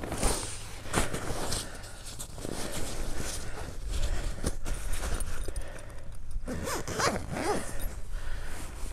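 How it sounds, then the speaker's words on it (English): A zipper on an RV clam shelter is pulled closed in several long rasping strokes with short pauses, close and clear, with some rustling of fabric and no talking. "You just kind of zip this up."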